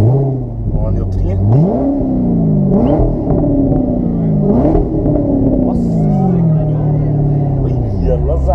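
A loud Corvette engine revs repeatedly, climbing in pitch and dropping back in several surging waves, close and continuous with no talking.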